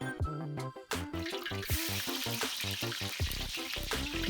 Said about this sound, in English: we're frying some onions followed by roughly blended pepper